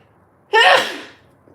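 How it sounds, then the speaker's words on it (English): A single loud, close sneeze bursts out sharply and trails off over about half a second, with no talking around it. "I'm gonna have to sneeze here in a second."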